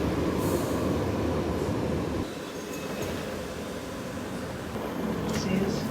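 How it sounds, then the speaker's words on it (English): A London Underground tube train at Heathrow Terminal 5, giving a loud, broad rumbling roar that briefly drops in level before building again, with faint voices and station noise in the background. "I've come downstairs now to get the tube back into central London from Heathrow, Terminal 5"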